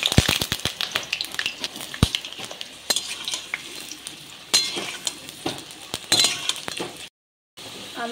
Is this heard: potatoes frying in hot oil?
yes